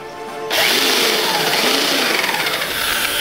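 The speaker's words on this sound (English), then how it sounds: "Drill a hole right down where" Power drill boring a hole through wooden boards, spinning up abruptly and then holding a loud, steady high whine close by for about three seconds, alone without talk.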